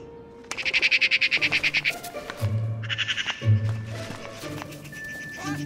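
Crows and magpies scrap over a carcass in a harsh, rapid run of calls, followed by a second burst and scattered chatter, close and loud.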